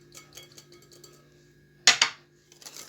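Sugar and oil mixture for crisp biscuits stirred in a bowl, with soft scraping and light taps, then two sharp, loud clinks of the utensil against the bowl's side.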